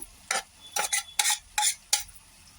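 Finely chopped tomatoes go into a pan of sautéed spices for a soya matar keema, followed by five or six sharp scraping strokes of a spoon against the pan over a faint sizzle, close and clear.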